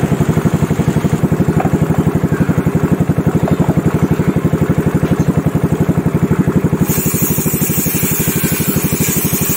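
A Yamaha Mio Smile motorcycle engine runs steadily close by, a loud, even, rapid putter throughout with no talking.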